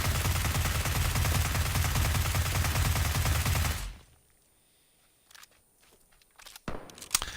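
Sustained automatic fire from a UMP 9 submachine gun in a video game, a dense loud rattle for about four seconds that cuts off abruptly, followed by quiet with a few faint clicks and small shuffling sounds.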